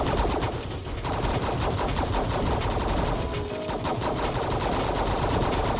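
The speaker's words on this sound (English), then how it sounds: "I shoot very fast now" Rapid automatic gunfire rattles nonstop in the video game CD-ROM Fantasy Chaos Train, a loud, dense burst of shots with a brief dip partway through.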